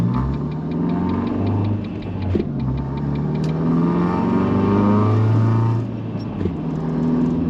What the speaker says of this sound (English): Focus is loud. It's got a really cheap eBay exhaust on it